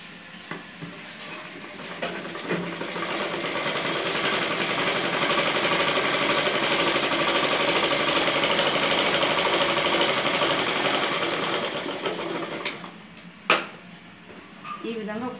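Sewing machine stitching a boat neck blouse, a rapid continuous mechanical chatter that builds and holds steady for several seconds before stopping, followed by a sharp click and quieter handling, with some talk faintly in the background.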